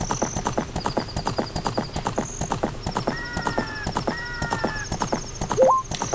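The horse Epona gallops in Zelda: Ocarina of Time with rapid, evenly spaced hoof clip-clops, loud and close, under game chimes and jingles, with a short sharp cue near the end.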